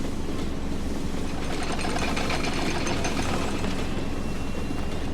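Bucket Destroyer machine from The Stanley Parable video game, a steady loud mechanical rumble with rapid repetitive clatter and whirring running throughout, no talking.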